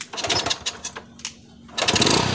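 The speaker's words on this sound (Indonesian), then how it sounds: "nanti setelah di kiri begini kita starter ya Mas ya" An old 1996 motorcycle engine is started, a bursting sputter that drops off briefly, then a revving engine catches again loud and close.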